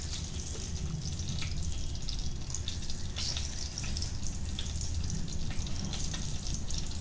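Garam masala, cinnamon, cloves and cardamom frying in oil for chana masala, producing a continuous crackling sizzle with scattered pops and ticks, moderately close and with no talking.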